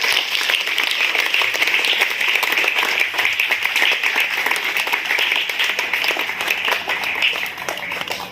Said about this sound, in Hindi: तो एक बार ताली होनी चाहिए भी दोनों टीचर्स के लिए